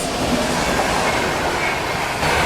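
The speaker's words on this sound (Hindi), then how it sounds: "ये थी दोस्तों अपनी पंजाब मेल।" The Punjab Mail express train passes close by, a loud steady roar of rolling wheels and carriages with clickety-clack and rail noise that holds throughout.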